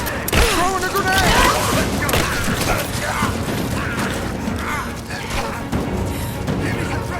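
Dense video game gunfire with booming grenade blasts and mechanical clatter in Rise of the Tomb Raider, loud and continuous, with shouted voices mixed in.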